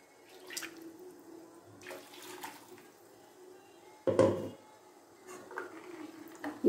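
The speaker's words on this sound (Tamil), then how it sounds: "கொஞ்சம் தண்ணி கலந்து ஊத்திக்கலாம்" Water poured into a pot of tomato sambar with onions and ground masala in a home kitchen, a splashing pour of about half a second alongside a few quieter clinks and stirring sounds.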